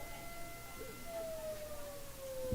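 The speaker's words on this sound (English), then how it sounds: "Yes, Teresa, the siren does blow." A fire station siren blows in the distance, one long sustained tone slowly gliding downward in pitch, faint beneath a room of background murmur.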